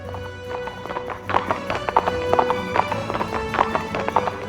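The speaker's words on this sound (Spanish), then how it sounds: "Iba y venía en su caballo dando órdenes a diestra y a siniestra." Horse hooves clip-clopping in a steady, close rhythm, crisp repeated clops growing busier midway, with a faint underlying music bed and no speech.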